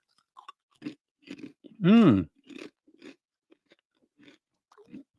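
Crunchy food is chewed close to the mic in a series of short, uneven crunches and bites, and one loud voiced grunt or groan cuts in midway.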